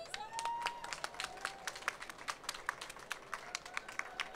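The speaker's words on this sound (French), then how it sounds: "Ça s'applaudit, ça." A small audience at a VivaTech tech-and-impact event claps for startup pitchers, thin and fairly faint with separate distinct claps and a faint voice or tone briefly underneath.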